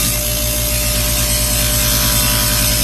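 A bench polisher runs while a rake is held against its spinning polishing wheel to clean off compound, a loud constant close grinding rasp with a steady motor hum underneath.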